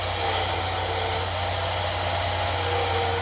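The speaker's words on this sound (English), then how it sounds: "And then you just rub the blow dryer over it." A blow dryer runs steadily at close range while being passed over a wig during installation, a continuous whooshing hum with no pauses and no talking.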